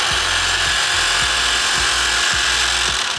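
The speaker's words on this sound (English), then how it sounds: "Blunt knife, up against the central guide, pressing, you can hear the motor working" An electric knife sharpener motor whirs steadily while a blunt knife blade grinds against it in a rhythmic back-and-forth rasp, about six strokes, close and loud.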